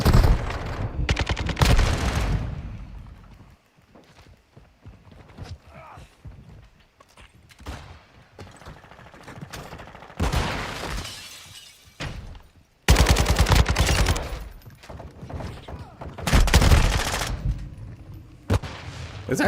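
RPK machine gun firing in Call of Duty Modern Warfare II, several loud close bursts of rapid automatic fire separated by quieter pauses with footsteps and someone talking between them.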